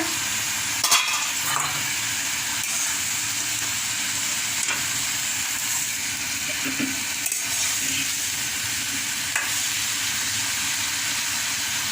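Vegetables and black gram lentil dumplings sauté in a pan with a constant hissing sizzle, broken by occasional scraping taps of a stirring utensil, close and steady, with no talk.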